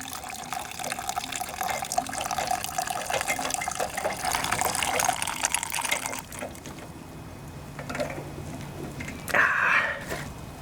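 Running water splashes steadily from a tap while a carburetor bowl gasket from a Honda side-shaft 179cc pressure washer engine is wetted, the flow fairly close and continuous with brief clatters near the end.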